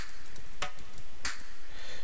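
Two bright percussive hits land about half a second apart over a steady background, layered percussion samples in a future bass drop.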